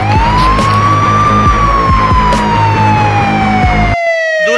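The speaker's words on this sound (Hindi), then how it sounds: "अरे पुलिस के सायरन की आवाज आ रही, कहाँ से आ रही है?" A loud police siren wails alone in a steady, slowly falling tone, then cuts off abruptly near the end.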